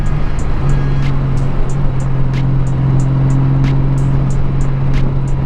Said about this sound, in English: The gear just downshift like crazy on this thing.